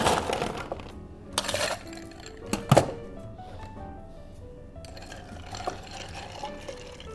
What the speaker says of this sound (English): Then we're going to give it a stir.